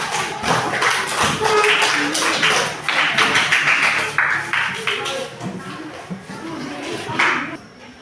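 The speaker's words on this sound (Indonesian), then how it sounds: "Silakan duduk, kasih tepuk tangan." Classroom of elementary school students applauding a group after their presentation, a dense burst of clapping that fills several seconds with voices mixed in and then gradually thins out.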